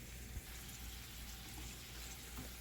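Beef patties smashed down and frying in a hot pan, a steady close sizzle with crackling fat running continuously, no voices over it.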